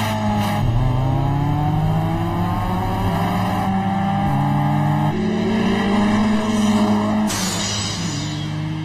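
A Toyota AE86's engine revs high in an anime mountain race, a continuous loud, rising engine drone with shifting pitch bands held steady throughout, over music-like tones and no speech.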